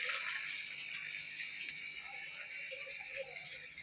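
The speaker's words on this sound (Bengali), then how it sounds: "আর এই যে আমার মাছের ট্যাঙ্ক, জল ভরছি" Water pours steadily into a rooftop fish tank holding mixed shing and koi fish, a continuous bright splashing hiss that stays even and close throughout, with faint background sounds and no clear talking.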